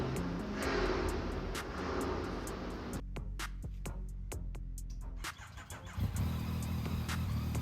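A Yamaha MT-09 (FZ-09, first generation, 2014) motorcycle with modified headlights is started. Steady engine noise gives way to sharp clicks and a brief dip, then the engine catches and runs at a fairly loud, close idle. No one speaks.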